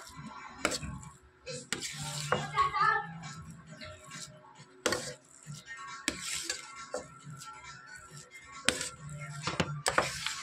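Chopped ingredients for a paneer omelette are mixed by hand in a bowl, giving intermittent soft squishing, tapping and rattling with pauses between bursts. Brief speech can be heard now and then.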